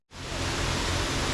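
Hongje Waterfall, about 25 m high and 60 m wide, falls beside an urban stream, a loud steady broadband roar of rushing water heard up close that swells in abruptly and holds constant.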